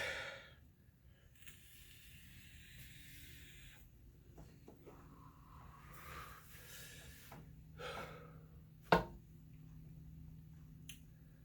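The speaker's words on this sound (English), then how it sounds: "I need to just take a couple deep breaths real quick" Deep breaths are drawn and let out before eating chocolate scotch bonnet peppers, slow audible inhales and exhales close by, with a sharp snap or click near the end.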